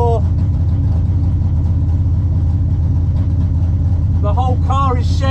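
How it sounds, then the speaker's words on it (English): A loud car engine idles at a drag race start line, its deep low rumble steady and droning throughout, with a brief burst of voices near the end. "all my windows are vibrating because of Andy's car next door."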